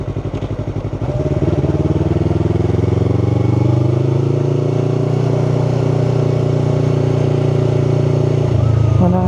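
A Yamaha R3 sport motorcycle engine revs steadily under throttle, loud and close from the rider's position, its pitch rising and then holding a sustained drone, with a gear change near the end.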